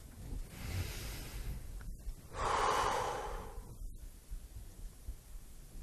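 Deep belly breathing, a slow, close, airy inhale followed by a longer, louder exhale, heard alone in a quiet room with no talking.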